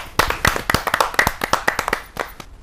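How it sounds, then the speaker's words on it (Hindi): Audience clapping to welcome a poet on stage at a Hindi poetry gathering: a burst of many hands applauding, loud and close, then tapering off near the end. "जोरदार तालियों के साथ हम स्वागत करें अमित बेनाम जी का"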